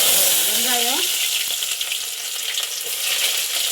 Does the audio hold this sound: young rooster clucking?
no